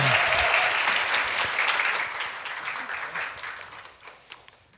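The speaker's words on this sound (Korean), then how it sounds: "큰 박수로 청해 듣겠습니다." A church congregation applauds, a loud burst of clapping at the start that gradually thins and fades, ending with a few scattered claps.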